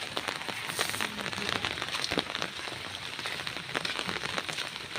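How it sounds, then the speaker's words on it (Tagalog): Steady rain falls in a rural home setting in the Philippines, a dense continuous hiss of drops pattering on surfaces with scattered sharper taps throughout, fairly close and even in loudness. "Maulan dito sa amin mga kakusina."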